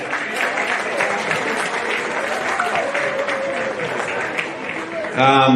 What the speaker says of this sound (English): Big round of applause for Queensland as Joey comes up.